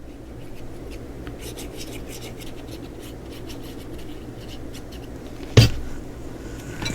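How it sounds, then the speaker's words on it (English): An ink pad rubs along the edge of a paper strip, giving soft, close scratchy strokes repeated over a quiet room tone, with one brief sharp knock near the end. "I'm going to ink the edge and glue it down"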